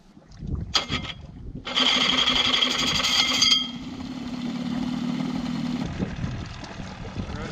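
An engine starts and settles into a steady idling drone, loud at first and then easing to an even running hum, heard alone with no talk over it.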